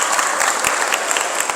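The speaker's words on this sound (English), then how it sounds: "Give her a good big hand of applause." A school audience claps for a student volunteer during a monk's talk, a brief, dense, loud round of many hands applauding close by.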